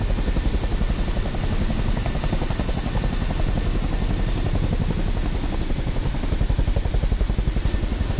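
A Chinook helicopter in a flight-simulator game, flying over the Mount Everest region, its rotors chopping loud and steady with a rapid, even beat through the whole stretch, close up and with no voices over it.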